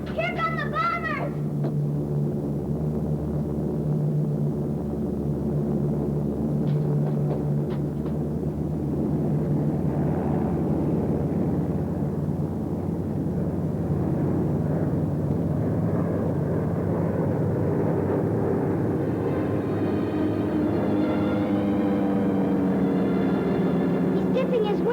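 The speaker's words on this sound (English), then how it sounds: "Here come the bombers!" Bomber aircraft fly overhead in a 1944 wartime setting, a loud, sustained droning rumble of propeller engines filling the whole stretch, with excited children's voices and shouting mixed over the noise.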